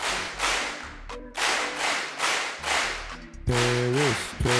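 Synthesized clap sounds from the El Clapo plugin by Boz Digital, triggered from a keyboard, come as a series of loud, sharp bursts at a steady rhythm, some with pitched tonal ringing layered in.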